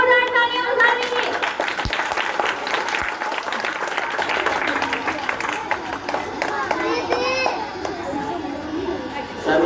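Schoolchildren clap for a classmate's speech at a school gathering, producing a sustained, lively round of applause from a crowd of kids. Children's chatter and voices mix in under the clapping.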